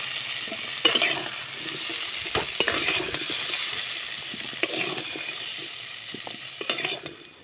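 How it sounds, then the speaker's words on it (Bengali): Potatoes and green peas stir-frying in a pan, a continuous sizzle with repeated spatula scrapes and clicks against the metal, close and moderately loud, no voices. "এবার আমি মটরশুঁটিগুলো দিয়ে একটু ভেজে এবার আলুগুলো আমি তুলে নেব"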